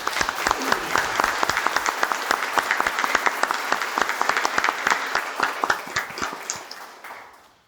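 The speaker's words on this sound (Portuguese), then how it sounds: "Agora uma salva de palmas." Enthusiastic applause from a crowd at a formal council ceremony, many hands clapping steadily, then tapering off at the end.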